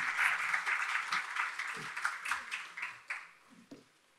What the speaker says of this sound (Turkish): Hocamızı bir alkışlarla alalım, konuğunu davet etsin ve ilk oturumumuza başlayalım.